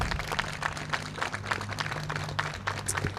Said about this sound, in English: let's have a round of applause for our state and local government